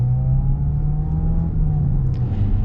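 A 2025 Audi Q7 with a four-cylinder engine accelerates under steady load, its smooth engine drone and whirring harmonics holding loud and close from the cabin throughout, with no talking.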